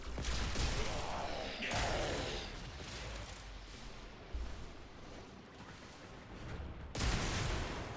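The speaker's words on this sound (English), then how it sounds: "Big ol' explosion" A big explosion in the video game Warframe during a spy mission, a loud dense blast and rumble with crackling debris, followed by further booming bursts and a sharp hit near the end.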